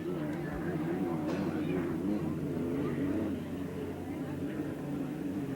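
Unlimited hydroplane racing boats roar on the Ohio River at Evansville in 1982, a steady distant engine drone running continuously under a race commentator's voice.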